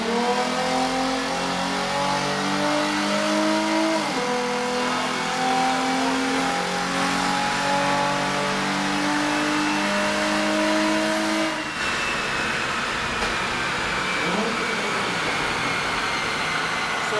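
A tuned car engine revs hard through a 4th gear dyno run, rising steadily in pitch, then cutting off into a lower, rougher tone. It is loud and close with no talk.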